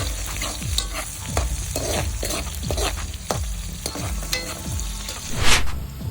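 Onion and garlic sautéing in a pan for pinakbet, with steady loud stirring scrapes repeating about twice a second over a continuous sizzle, one brighter hiss burst near the end.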